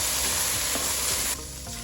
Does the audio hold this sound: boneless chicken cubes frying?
yes